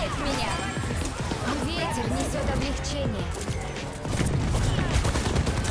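Rapid bursts of Overwatch 2 gunfire crackle continuously beneath overlapping excited voices, loud and chaotic throughout.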